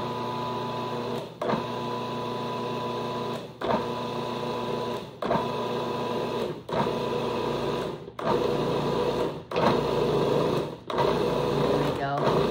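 A food processor mixes ingredients with milk in repeated whirring motor bursts of a second or two, separated by short pauses, with a voice talking over the machine.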